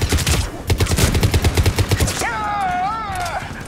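Enemies firing in the sci-fi shooter Mass Effect 3, a rapid, evenly spaced stream of loud shots for about two seconds, followed by a warbling electronic tone as the gunfire stops.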